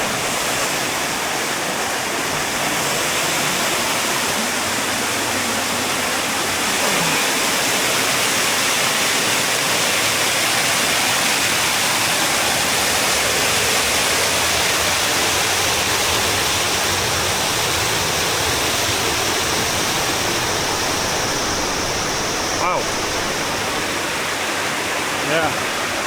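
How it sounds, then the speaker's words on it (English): A strong waterfall inside a cave in Chiapas, Mexico roars as a dense, steady broadband rush that holds loud and unbroken throughout, with no other sounds standing out. "It's a pretty strong waterfall too."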